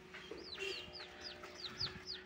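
Turkey chicks and chicken chicks peeping nearby, a quick run of about seven high, rising chirps in an irregular rhythm over a faint steady background, fairly quiet and without talk.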